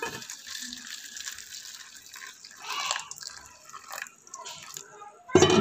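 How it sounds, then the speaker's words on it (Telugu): Hot water is poured over soap nuts for a homemade shampoo, giving a light, intermittent splashing and trickling that rises briefly midway and ends in a louder gush. "సో ఇప్పుడు వచ్చేసి హాట్ వాటర్ వేద్దాం ఇందులో"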